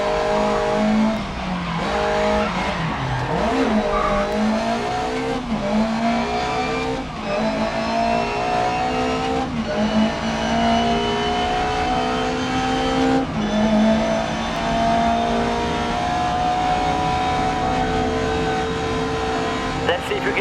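Race car engines roar continuously in GRID Legends, rising and shifting through gears with revving pitch sweeps and occasional tire squeal, loud and sustained throughout with a voice talking over the racing.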